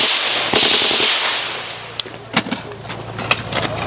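Full-auto gunfire from a rifle fitted with a Hu-Du muzzle brake and suppressor at a shooting range: several sharp, loud cracks in an uneven burst, with ringing echo between shots.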